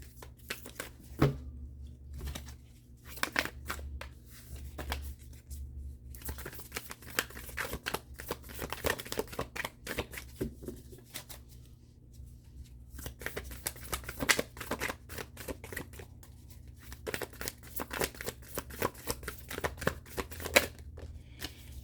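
A tarot deck shuffled by hand for a reading, with steady riffling and flicking card bursts, some brief pauses between runs, quiet and close for over twenty seconds.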